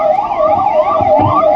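An ambulance siren wails loud and close during an anti-terror mock drill in Kolar, its rising and falling tone cycling continuously with faint vehicle rumble underneath.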